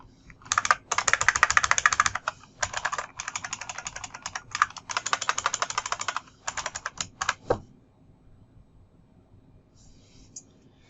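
Computer keyboard typing while fixing code indentation, rapid bursts of close key clicks in several runs separated by short pauses, then quiet.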